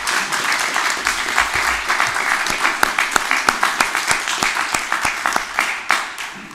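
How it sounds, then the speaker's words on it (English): A news conference audience gives a round of applause that begins as a dense wash and thins into distinct individual claps near the end, fairly close and loud. "Can we have a little round of applause for that?"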